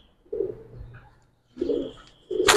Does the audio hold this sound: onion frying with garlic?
no